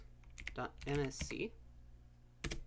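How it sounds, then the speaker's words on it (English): Keys clatter on a computer keyboard in a short burst, with a voice speaking over part of it and a final quick cluster of taps near the end. "Type in gpedit.nsc"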